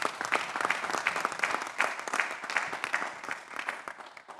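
Assembly members in a sitting chamber clap together, a moderately loud round of many hands with some sharp individual claps standing out, steady throughout.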